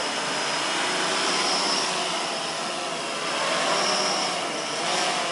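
RC aircraft with brushless electric motors running, giving a steady, loud, high-pitched whine with slight swells in intensity and no talking.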